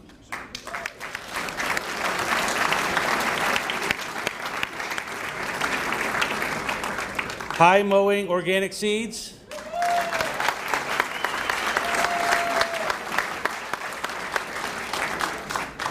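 An audience applauds award-winning companies, steady dense clapping running throughout, briefly interrupted midway by a voice announcing over it before the applause carries on.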